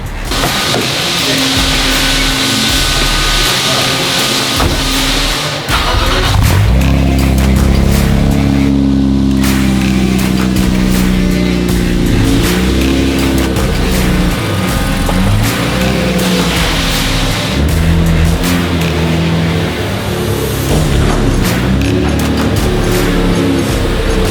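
A full-bolt-on 2023 Nissan Z making over 500 hp revs hard on a dyno, the engine climbing through loud rising pulls after a quieter idle start, close and dominant.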